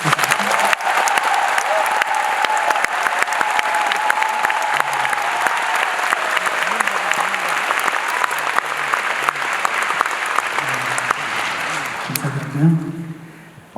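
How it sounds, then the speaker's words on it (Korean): A concert audience applauds loudly and steadily for several seconds after a symphony orchestra performance, clapping dense and sustained before tapering off at the end. "박수 한번 쳐주세요"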